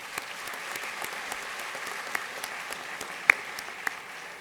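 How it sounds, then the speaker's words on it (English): At an awards ceremony, an audience applauds the nominees with soft, distant, continuous clapping and a few sharper claps close by. "Please give them a round of applause."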